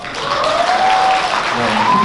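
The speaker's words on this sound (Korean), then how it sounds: "박수 부탁드리겠습니다." Wedding guests applaud in a hall, a loud, steady wash of clapping that fills the whole moment, with a voice faintly carrying over it.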